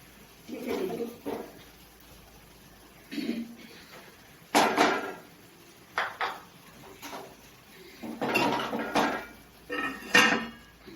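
Aloo matar is served out of a cooking pot, with metal utensils clinking and scraping against it. Bursts of close clatter come in several separate clusters, with quiet gaps between them.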